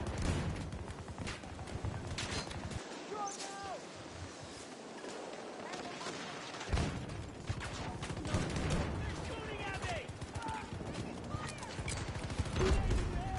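Chaotic war-zone gunfire in Battlefield 2042, rattling bursts and distant booms mixed with shouting voices, loud and continuous with a short quieter stretch.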